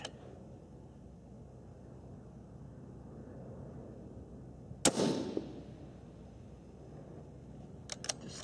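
A distant .223 Remington rifle shot fired at a target 1,100 yards away, heard as a single sharp crack over steady outdoor background noise, followed by a short rumbling tail and a few faint clicks later.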